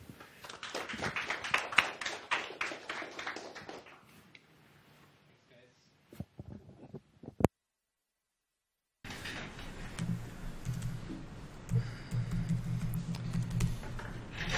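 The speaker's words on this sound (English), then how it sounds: "So without further ado, round of applause, Alex Tucker." An audience at an HTML Toronto tech meetup on WebRTC face tracking claps in a dense burst that fades out over a few seconds, followed by a few isolated knocks, a silent gap, then steady room noise.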